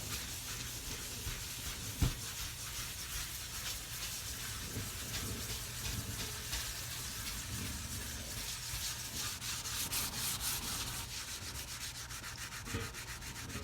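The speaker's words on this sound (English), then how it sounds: "we're gonna scrub it. And I use Scotch-Brite because it scrubs" A Scotch-Brite pad scrubs a dirty stove in steady, rapid back-and-forth rubbing strokes, close and continuous, with a sharp knock near the start.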